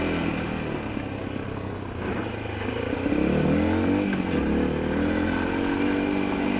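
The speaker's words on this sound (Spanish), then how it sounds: "Qué moto tan suave, es lo mejor, tiene una buena respuesta." An MRX 150 enduro motorcycle engine hums steadily nearby, then revs up and climbs in pitch as it accelerates, with a rough mechanical drone underneath.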